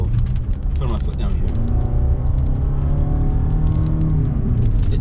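A 2021 Toyota Venza hybrid with 219 horsepower and all-wheel drive, its rear electric motor driving the rear axle, accelerates hard. A low engine and motor drone and whir rises steadily inside the cabin, heard beneath continuous talking.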